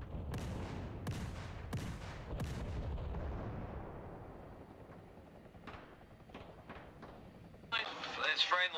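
Artillery fire striking a church in a military video game, a few heavy distant booms with rumbling decay, followed by quieter scattered impacts and a louder rush near the end.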